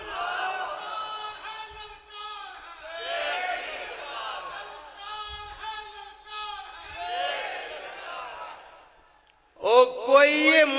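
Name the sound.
crowd shouting response to Takbir slogan call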